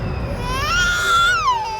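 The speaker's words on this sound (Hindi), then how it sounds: "बच्चे की रोने की आवाज?" In a jungle scene from the Indian crime drama CID, an infant cries in one loud, rising and falling wail that stands out clearly against faint background noise.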